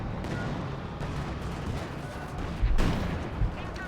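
Gunfire crackles through a Company of Heroes 2 match between Wehrmacht and Soviet forces, dense steady shooting with a heavier, louder burst of impacts near the end.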